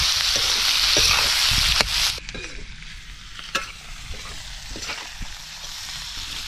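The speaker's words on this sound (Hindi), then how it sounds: "इसको चलाते हुए थोड़ा सा भून लेते हैं" Turmeric, Kashmiri red chili and coriander powder being stirred and roasted in a hot pan for a village-style bhindi do pyaza, a loud steady sizzle with repeated scraping strokes of the spoon, softening slightly after the first two seconds.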